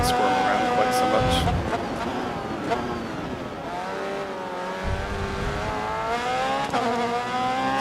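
Open-wheel race car in Grid Autosport roaring through gear changes, engine pitch rising and falling as it brakes and accelerates, with someone talking over the game audio.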